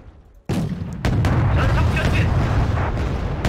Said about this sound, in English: South Korean tanks are pummeling the North Koreans